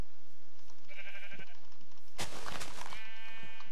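Sheep bleating in Minecraft with the Millénaire mod, one short bleat followed by a louder, longer wavering bleat overlapping a second bleat, over faint background game sounds.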